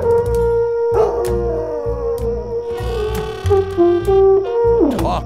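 A dog howls in long, wavering, sustained tones with several pitch slides, close and loud, mixed with a playful horn-like musical accompaniment and no talk.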